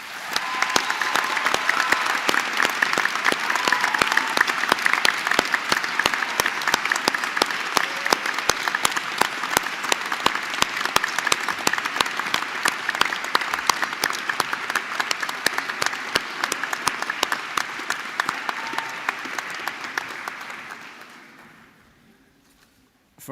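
Sustained loud applause from a large graduation ceremony audience, steady dense clapping for about twenty seconds before fading out at the end.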